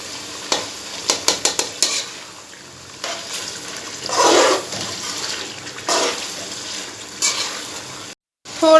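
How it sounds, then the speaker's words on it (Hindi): Chicken masala with finely slit green chilies is sautéed in a pan. A loud, close sizzle is broken by sharp clatters of a spoon stirring against the metal, with bursts of hissing rising as the mix is turned. "वो मैंने इसमें ऐड कर दिया और अब अच्छी तरह मैं इसकी भुनाई कर लूँगी।"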